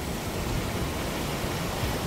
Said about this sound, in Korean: 위에서 내려온 물이 이렇게 쭉 내려와서 계곡 아래로 쭉